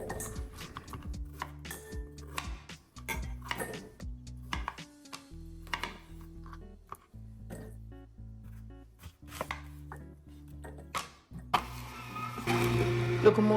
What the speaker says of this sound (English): Grab your cutting board and your knife and one bowl, and let's start cutting the ingredients now.